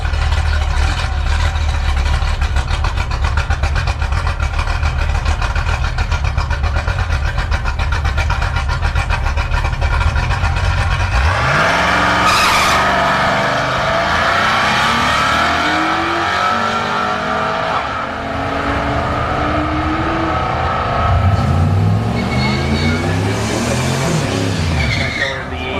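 Toyota TRD Camry and Mustang GT at a drag strip at Orlando Speed World, engines idling loudly before a roaring launch with tire noise and cars sweeping past, an announcer talking over the track noise.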